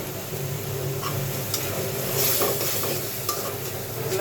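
Prawns frying in a pan with grated coconut and spices, stirred steadily, giving a soft continuous sizzle with scraping stir strokes throughout.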